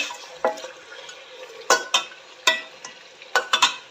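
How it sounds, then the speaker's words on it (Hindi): Chicken frying in a handi pan, with a soft steady sizzle broken by sharp scrapes and clinks of a spoon stirring against the metal, close up and without voices. "चिकन हमारा फ्राई हो रहा है अच्छी तरह।"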